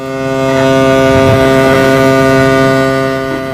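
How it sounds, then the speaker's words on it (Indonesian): A ship's horn blares in one loud, sustained low tone, swelling and holding for several seconds before easing off. "tiba-tiba terdengar suara klakson dari satu kapal"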